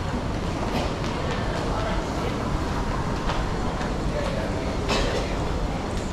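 An airport rail link train from Soekarno-Hatta Airport to central Jakarta gives a low, continuous rumble that fills the clip, with faint clatter and brief higher noises riding over it; no clear speech stands out.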